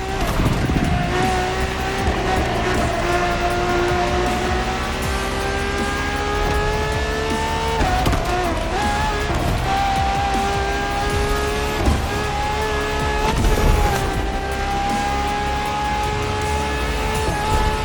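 A Ferrari hybrid supercar with a naturally aspirated V12 howls in The Crew Motorfest, a loud, continuous high-revving engine note rising and falling through gear changes, with brief tire noise.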